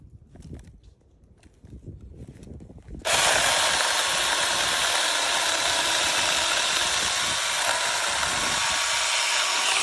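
Electric pruning shears cutting on a farmstead: quiet rustling and handling, then an abrupt loud, steady whirring buzz that continues unbroken for the remaining seven seconds.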